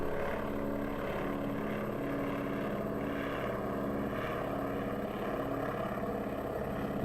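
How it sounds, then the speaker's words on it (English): An airplane coming in over a city, a steady droning engine hum with a low propeller-like throb, moderately distant and continuous, with no voices. "Look at the plane come in."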